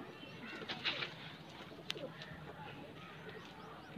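Kaldum pigeons, white-eyed birds in a pair, coo softly in a loft setting, with a few brief calls and a wing flutter amid low background noise; no one speaks.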